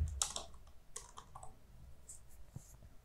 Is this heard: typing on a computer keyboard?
yes